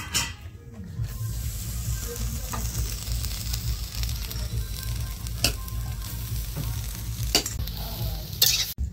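Grated coconut frying in a kadai for a patishapta pithe filling hisses steadily up close, while a spatula scrapes and knocks against the pan in scattered sharp strokes.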